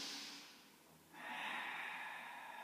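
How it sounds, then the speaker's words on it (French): Ujjayi breathing during a yoga core and upper body flow: one slow, airy exhale fades, then a long, hissing inhale follows through the throat. It is close and soft, with no talking. "on respire Ujjayi"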